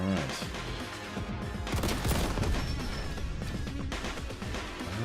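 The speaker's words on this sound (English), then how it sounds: "Warhammer 40k version of a belt-fed machine gun." Warhammer 40k belt-fed machine gun firing in a video game demo, a dense, rapid stream of heavy shots with booming impacts, sustained and loud with only brief shifts in intensity.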